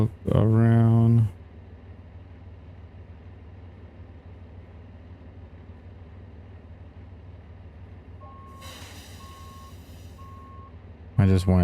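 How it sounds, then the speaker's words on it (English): A truck in American Truck Simulator sounds a steady series of reversing beeps at a regular pulse, distant and light beneath a constant engine drone, with louder engine surges at the start and end. "I just wanted us to put it in reverse, okay."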